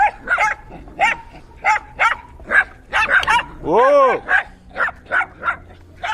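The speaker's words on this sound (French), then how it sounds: "on va vous passer un enregistrement de chiens qui nous ont poursuivis" Small dogs yap and bark in sharp, high-pitched bursts close by while chasing cyclists in Argentina, a rapid uneven string of barks with a drawn-out whine in the middle and a person's exclamation.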